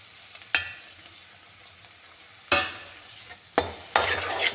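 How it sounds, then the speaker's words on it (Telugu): Onion pieces frying with chili powder and curry leaves, a low sizzle punctuated by several sharp spoon scrapes against the pan as they are stirred. "ఇప్పుడు ఇందులో మనం కారం, కరివేపాకు కూడా వేస్తున్నాను కొంచెం."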